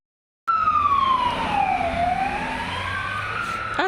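A wailing fire engine siren sweeps down and back up in pitch over a low traffic rumble, loud and continuous after a sudden start.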